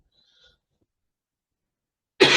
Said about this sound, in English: I haven't coughed all week, and now it's just today, of course, while I'm doing this presentation.